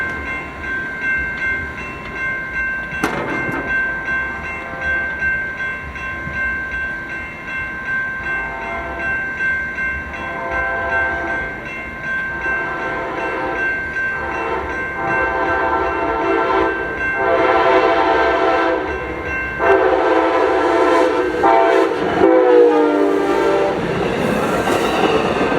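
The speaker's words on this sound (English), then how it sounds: "Amtrak 582 would roll by with a doubleheader" Amtrak passenger train doubleheader led by an SC44 Charger with a trailing P42DC locomotive rolls through Carlsbad Village station, a sharp horn blast early, then a loud, building rumble of engines and wheels passing close.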